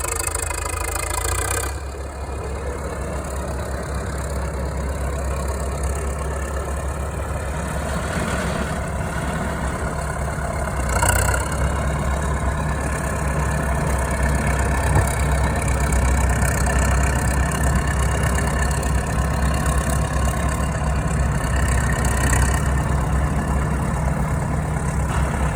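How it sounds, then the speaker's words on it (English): A Caterpillar diesel engine on old working machinery runs steadily and loud throughout, a deep low rumble with a sustained mid-range drone and a slight rise in intensity, heard alone without talk. "Listen to that diesel growing. He's taking it all the way to the top."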